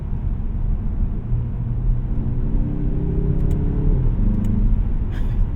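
2025 Mazda3 2.5T turbocharged hatchback engine heard from inside the cabin, a steady low rumble with pitch rising and dropping as gears change through the paddle shifters.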